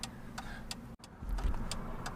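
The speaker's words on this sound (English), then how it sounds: "there's a lot of traffic happening right now where I want to turn at" Steady road traffic rumbling past outside a car waiting to turn, heard from the cabin as a continuous low drone with a few brief ticking sounds.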